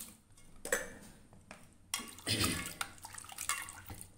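Potato pieces drop into water with splashy plops and clinks against a bowl, a few separate splashes followed by a busier burst of sloshing.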